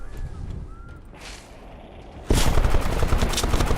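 Gunfire in the video game Fallout 4: a quieter stretch with faint tones gives way to a sudden loud burst of dense, sustained shooting that continues to the end.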